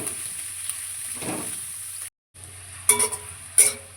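Carrots and beans stir-frying in a pan for restaurant-style hakka noodles: a steady close sizzle, cut by a brief dropout midway, then two sharp metallic utensil clinks near the end. No one speaks.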